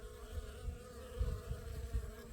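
Wasps around a beehive in autumn give off a continuous, faint, humming drone, with the buzz rising and falling as they fly near and away.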